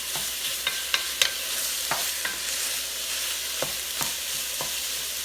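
Ground beef, onions and garlic frying in a very hot pot, giving a steady bright sizzle with scattered crackles and a few scraping stirs, close and continuous with no talk.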